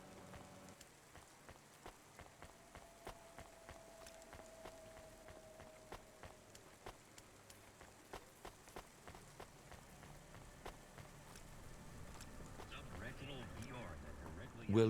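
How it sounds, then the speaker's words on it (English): Rain in the video game Cloudpunk, a soft, steady patter with faint regular ticks, quiet throughout and building slightly toward the end. "Don't let all the rain get you down."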